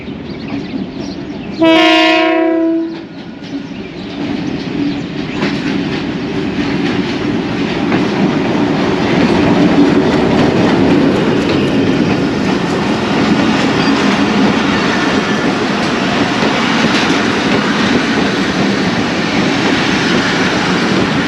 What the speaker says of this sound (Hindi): तो इसका अराइवल देखते हैं, इसको लूप लाइन पर लेंगे।